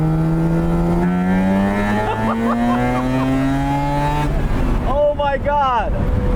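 A 1,900 lb Mazda R100 with a high-revving rotary engine screams through rising revs with smooth harmonic tones, dips, then climbs again in warbling surges, loud and close, with voices talking over it.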